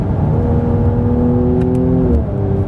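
Engine of a sports sedan in sport mode, an Alfa Romeo Giulia Veloce, BMW 340i or Mercedes C43 AMG, held at a steady, loud, close rev with a rising tone, then easing off near the end; no talk.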